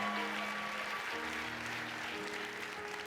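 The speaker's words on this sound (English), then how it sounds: "A round of applause, ladies and gentlemen, for our proud fathers" An audience at the Rose Queen coronation ceremony applauds the proud fathers, a fairly faint, steady wash of clapping with sustained organ-like music tones underneath.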